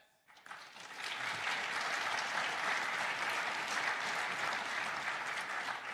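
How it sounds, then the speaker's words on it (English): Audience applause at a CES 2025 event rises quickly after a brief quiet start and holds as a dense, steady wash of clapping from a large crowd. "that's what deserves a round of applause"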